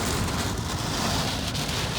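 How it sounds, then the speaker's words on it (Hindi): Rain falls steadily during a road trip through scenic hills, a dense, continuous hiss of drops drumming on a surface, close and even throughout with no talking. "ये है रास्ते की बारिश"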